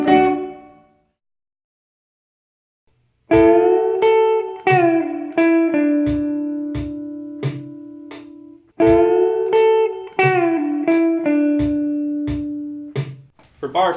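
Electric guitar playing a bar of the solo: after a fading note and a short silence, two phrases of plucked single notes and strummed double hits ring out clearly, close and alone.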